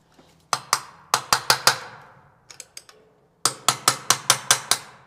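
Sharp, close hammer blows ring out in three quick bursts of five or six strikes each while a clothes drying rack is installed, driving fittings into 8 mm drilled holes, with short pauses between the groups.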